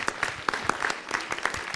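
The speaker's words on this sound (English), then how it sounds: "give him a round of applause" Crowd applause at a 2014 city council meeting honoring the grand marshal, a steady wash of clapping hands lasting under two seconds with no voices over it.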